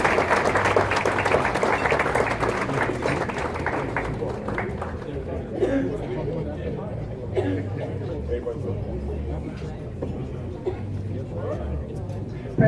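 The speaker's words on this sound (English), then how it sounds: "Clap your hands for Principal James N. Earl." Applause from an audience at a ceremony honoring a school principal with a plaque, steady dense clapping filling the whole stretch, with crowd chatter and voices underneath.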